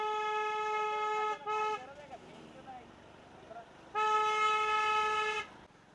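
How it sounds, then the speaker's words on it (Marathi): Heavy holiday traffic clogs the road through Lonavala, heard from a motorcycle. Two long, loud car horn blasts sound with a pause between them, and low road noise and murmuring fill the gap. "फुल ट्रॅफिक."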